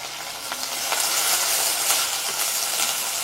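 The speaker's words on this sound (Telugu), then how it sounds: "ఇప్పుడు ఒక 6-7 గల పచ్చిమిర్చిని వేసుకొని వేపుకోవాలి." Green chillies sizzling as they fry in a spoonful of oil with coriander seeds, cumin, fresh coriander and curry leaves, a steady close crackle running throughout without talk.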